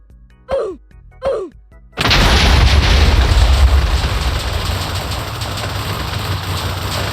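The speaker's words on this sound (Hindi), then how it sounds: "धमाका तो बहुत ज्यादा तगड़ा था।" A massive, loud boom from a serious punch in Minecraft erupts after two short voiced sounds, followed by a long roaring rumble that slowly fades.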